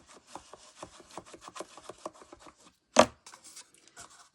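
Folded paper is burnished down onto a handmade gift box with quick, rhythmic dry rubbing strokes, close up. One sharper knock comes near the end, followed by lighter rubs.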